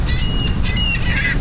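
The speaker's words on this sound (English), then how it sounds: "Just beside the squawking birds, a new addition to Diversey Harbor" Squawking birds, likely geese, at Diversey Harbor give several honking calls over a steady low rumble of wind and water, close and fairly loud throughout.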